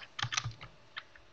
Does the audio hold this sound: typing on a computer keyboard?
yes